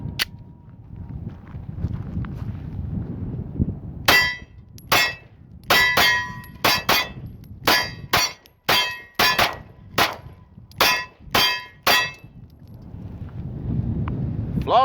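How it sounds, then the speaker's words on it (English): A Glock 19 pistol loaded with a KCI 15-round magazine fires roughly fifteen sharp, loud shots in an uneven rapid string outdoors, with wind noise and a low rumble before and after the shooting. "first up is the 15-rounder KCI magazines out of a Glock 19"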